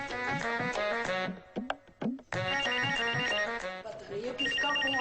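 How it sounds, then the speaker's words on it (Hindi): A telephone rings in a domestic drama scene with repeated bright electronic trills in bursts, loud and close, separated by brief pauses. "ये किसका फोन आ गया?"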